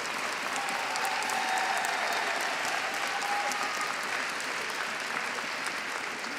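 Sustained, dense applause from a home crowd filling an ice rink after a women's short program figure skating performance at the European championships in Espoo, steady and loud throughout with no pauses.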